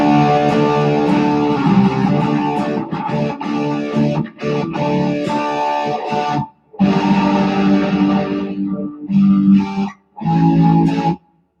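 Electric guitar played through distortion on an HX Stomp effects unit: loud, saturated chords and riffs ring out steadily, broken by a few short pauses near the end.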